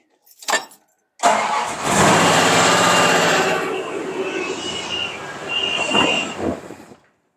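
A Dodge Dart engine cranks briefly, then catches and roars to life, revving loudly with full exhaust noise and valve train rattle before settling into a rough idle and cutting off.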